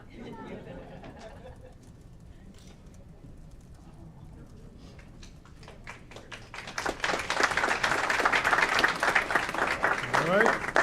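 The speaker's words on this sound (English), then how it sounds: "Let's give her a round of applause." Applause breaks out at a city council meeting after a quieter stretch, with loud, dense clapping that fills the room from the middle onward.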